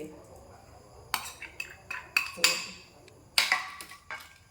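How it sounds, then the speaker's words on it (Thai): Minced pork goes into a bowl and is mixed for a pork koi, producing a handful of sharp clinks and scraping knocks spaced about a second apart, close and fairly quiet. "หมูสับ หมูสับ ใส่ลงไปเลย"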